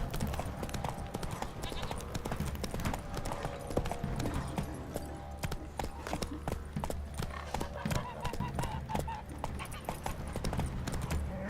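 Horse hooves clip-clop steadily through a long stretch of riding in The Witcher 3, a continuous rhythmic trot running throughout under game ambience and music.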